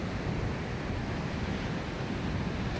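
Ocean surf rolling onto a sandy beach at high tide near Brownsville, Texas, a continuous broad wash of waves with some wind, steady and moderately loud with no voices.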